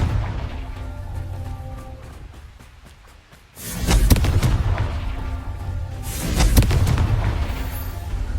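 Confringo blasting spell going off in Hogwarts Legacy: a sudden loud burst about midway, then a second swelling blast a few seconds later, each trailing into rumbling crackle over a low background hum.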